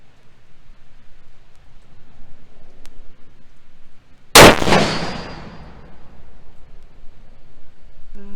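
A single sharp rifle report from a Savage 110E in .270 Winchester at a long-range target cracks out near the middle, loud and close, followed by a ringing, decaying tail, with quiet outdoor ambience before and after.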